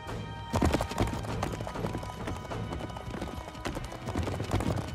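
Horses gallop in a steady, close clip-clop of hooves that runs the full length, with a dense musical bed playing underneath.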